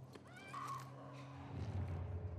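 A horse in the video game The Last of Us Part I lets out a whinnying neigh with a wavering high cry, followed by snorting and low breathy sounds, close and fairly clear.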